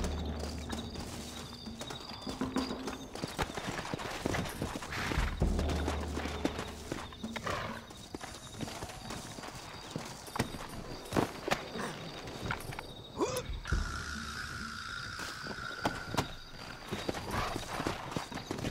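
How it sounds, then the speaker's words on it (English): Horses in the video game Red Dead Redemption, with steady hoofbeats clopping along, an occasional whinny and game sound effects layered over it, fairly quiet overall. "Looks like Carlos left us some horses."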